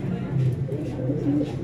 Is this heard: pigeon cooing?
yes